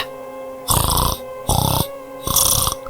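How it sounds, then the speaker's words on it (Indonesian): Three loud, harsh rasping gasps drawn from the throat of a badly injured man, each lasting under half a second and separated by short pauses, with no talk. "Suara sengal napas dari tenggorokan Mas Galuh."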